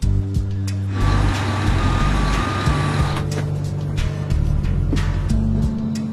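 An airliner being pushed back from the gate with its brakes released, a steady loud engine and tug rumble with repeated reversing beeps and hissing bursts, no talk.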